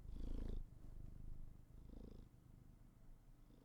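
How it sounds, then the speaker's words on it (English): A big male cat, held in someone's arms and recovering from a fight wound, purrs close and steady with a soft rhythmic rumble that swells and eases with each breath. "Hear his purrs."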